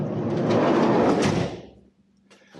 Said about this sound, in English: The slide door works well.